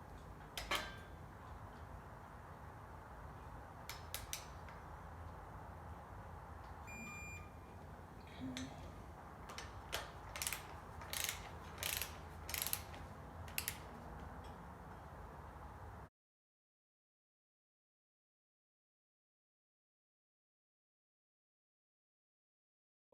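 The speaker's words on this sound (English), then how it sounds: "Clutch has been torqued to spec." A torque wrench ratchets and clicks while torquing the clutch on a NASCAR race car being rebuilt for Pikes Peak: a few faint early ticks, then a run of sharp, close clicks over a low hum before the sound cuts to silence.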